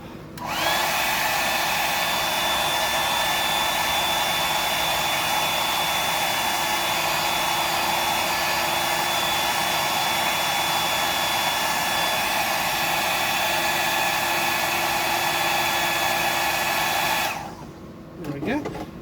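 Hair dryer blowing air to dry paint in a fastback green finish, a loud steady whoosh with a faint whine that runs continuously for about seventeen seconds, then cuts off.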